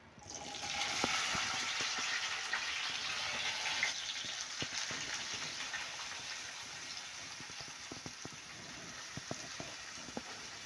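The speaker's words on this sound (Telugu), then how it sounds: "ఇప్పుడైతే ఇందులో ఆయిల్లో అయితే వేసుకుంటున్నా చూడండి" Bitter gourd pieces sizzle and crackle after being dropped into hot oil for a Telangana-style fry. The broad hiss is steady and fairly loud throughout, with scattered sharp pops, and no voice is heard.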